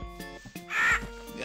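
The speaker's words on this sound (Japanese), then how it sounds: "あ、なんかカラスだなこれ。" A crow gives a single harsh, bright caw in a video game's Twilight Forest naga area, loud and close, rising briefly over tonal background music.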